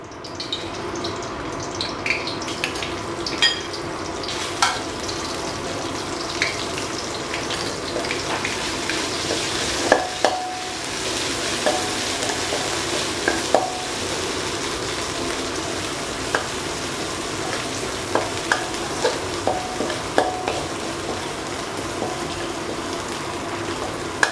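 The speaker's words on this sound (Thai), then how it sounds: "นำเครื่องแกงลงผัด" Thai curry paste being stir-fried in a pan for a pork rib curry with Thai eggplant, a steady close sizzle with occasional scraping stir clicks throughout, no talking.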